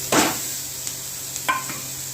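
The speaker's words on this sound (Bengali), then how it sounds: "এর তেলে কালো জিরে ফোড়ন দিয়েছি আর সব এইগুলো সব দিয়ে দিচ্ছি।" Black cumin and spices, with turmeric, salt and garam masala, hit hot oil in a pan for a pomfret curry, giving a short loud sizzle followed by faint crackles and a couple of stirring scrapes.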